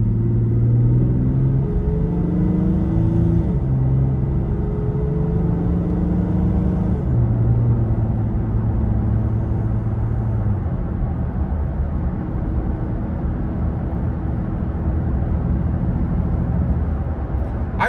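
Heard from inside the cab, a Toyota Tacoma pickup accelerates smoothly to 55 mph in cold weather, its engine note rising in steady steps over a constant low rumble of tire noise, with no talking.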